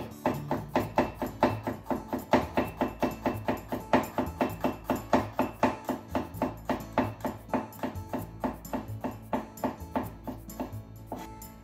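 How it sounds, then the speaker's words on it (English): Knife slicing peeled garlic cloves into thin slices on a cutting board, a fast regular series of crisp close knocks, about two per second, with no talking. "And garlic, skin removed already. Let's just make it into thin slices."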